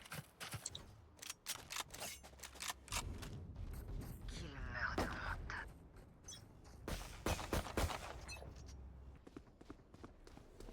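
Weapon reloading in a Valorant-style tactical shooter game: mechanical clicks and creaks of the reload under dense game sound effects, with a voice talking over it.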